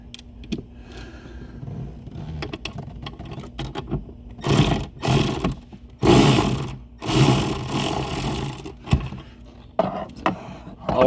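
Ratchet fitted with a small extension loosening the battery terminal bolt on a 2007–2010 Mercedes-Benz S65 (W221), giving bursts of rapid ratcheting clicks in short runs, close and fairly loud, with pauses between them and no talk.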